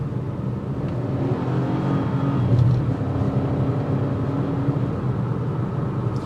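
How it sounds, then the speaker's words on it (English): The turbocharged engine of a 2024 Chevrolet Trax SUV pulls from around 30 mph, giving a steady, moderately loud drone of engine and road noise that swells slightly midway, with no talking. "Now what we're gonna do is slow down, and we're gonna do it around 30 to see how that turbo kicks in."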